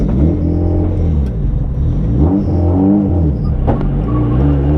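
A Nissan S13 drift car engine revs up and down in a loud, close rumble, its pitch climbing and falling in repeated sweeps.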